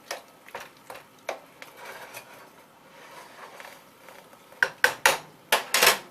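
Spoon or ladle scraping and clinking against a bowl while scooping pasta soup, a string of light clicks and knocks that grows louder and busier toward the end, close by with no talk.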